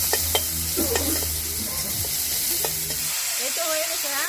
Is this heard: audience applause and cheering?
no